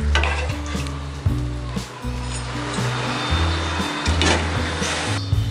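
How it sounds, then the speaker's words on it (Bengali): Potatoes sizzle and crackle as they fry in a pan for a Bengali-style aar fish curry, a steady close frying hiss running for several seconds with low tonal hum beneath it. "আলুগুলো সেদ্ধ হওয়ার জন্য আমি একটু ভেজে দিচ্ছি।"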